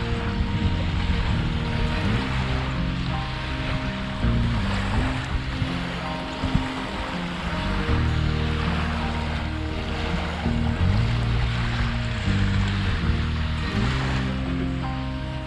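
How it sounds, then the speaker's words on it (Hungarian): Sea waves wash continuously onto the beach at Stavros, Greece, a steady broad surf hiss with a low droning hum running underneath. "Végre itt a tenger."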